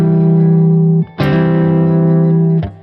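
An electric guitar rings with a sustained chord voicing, then a sharp hammer-on note breaks in around the middle and sustains, followed by a brief plucked accent near the end, loud and close with no talking.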